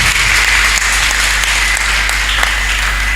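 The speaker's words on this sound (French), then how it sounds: "Clap for Jesus. Clap for Father." A church congregation applauds loudly and continuously, a dense, sustained wash of many hands clapping close by.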